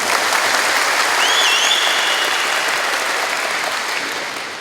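A crowd of street vendors and city residents claps together at a Bandung ceremony handing out vendor ID cards, a dense, loud, continuous wash of applause that slowly tapers toward the end.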